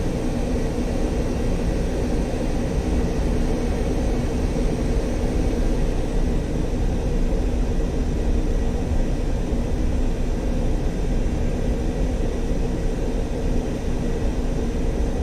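A jet aircraft taxiing toward the runway in the World Combat Simulator flight game, a steady, loud engine drone with broadband rushing noise that stays constant the whole time, with no voices.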